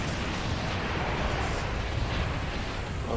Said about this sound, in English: Cruiser got hit by torpedo.